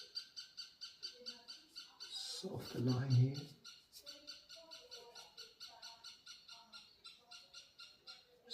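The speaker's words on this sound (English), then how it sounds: "Sorry about all these birds, you can hear them" Wild birds call outside with rapid, repeating high chirps in a steady rhythm, faint to moderate, under a person talking softly nearby, with a brief rustling thump partway through.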